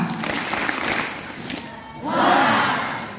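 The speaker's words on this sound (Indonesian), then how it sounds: "Tepuk tangan yang meriah untuk mereka." Students of class XI IPA 2 at a school literacy event erupt into loud, festive clapping and cheers partway through, after a stretch of chatter and voices.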